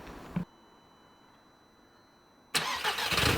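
Audi S3 8P after timing work: a brief churn, then a long near-silent gap before the engine catches with a loud, sudden burst and settles into a full, rough idle, close up with no voices.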